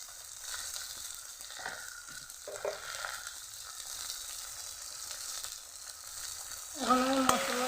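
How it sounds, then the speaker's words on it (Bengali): Spice paste with turmeric and salt fries in a pan for a Bengali stinging catfish and potato curry, giving a soft, steady sizzle with faint stirring scrapes, then a louder clatter near the end. "এখন আমি মশলাটাকে নাড়িয়ে দিয়ে ভালো করে কষিয়ে নেব।"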